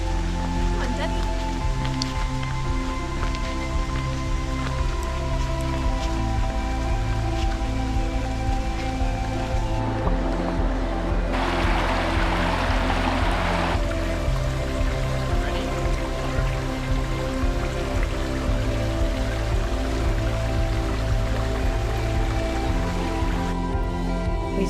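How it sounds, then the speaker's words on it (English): Rain falling in a Queensland rainforest, a steady, dense patter on leaves and surfaces that runs throughout, with a child and an adult talking briefly over it. "it's starting to rain"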